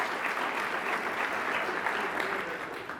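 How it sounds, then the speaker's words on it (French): An audience at an evening awards ceremony applauds a gold-category sponsor. The clapping is dense and even for three seconds, then begins to taper slightly at the close. "applaudissons la catégorie or"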